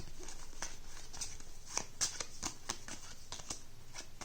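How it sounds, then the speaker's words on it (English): A stack of board game cards is shuffled by hand, producing quiet, rapid riffling and soft papery taps in an irregular rhythm, close and faint, with no talking. "give them a good shuffle"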